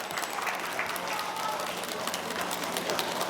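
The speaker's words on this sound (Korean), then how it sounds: "여러분 큰 박수 부탁드립니다." Audience applause at a diary-writing award ceremony, a dense, steady patter of many hands clapping throughout, moderately near, with a faint voice underneath.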